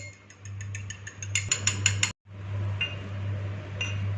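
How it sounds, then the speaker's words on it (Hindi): An egg whisked in a bowl gives rapid rhythmic clicking strokes over a steady low hum, pausing briefly midway before the strokes resume. "इस रेसिपी को बनाने के लिए एक अंडा लिया है, इसे अच्छे से मिक्स कर लेंगे।"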